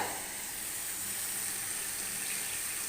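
Spice-rinse water from a mixer grinder bowl poured into a pan of simmering fish curry, a steady close hiss and light sizzle lasting throughout with no talk.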